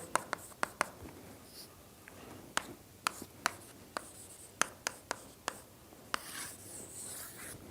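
Chalk or marker strokes on a board during a university lecture on partial differential equations, with a run of sharp taps and scratchy strokes at uneven intervals in a quiet room.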